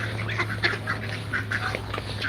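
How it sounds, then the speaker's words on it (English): Small peacocks on a farm call out in short, nasal, honking bursts close by, several quick cries in a row over a steady low background hum, with no talk. "There's the 2 little peacocks."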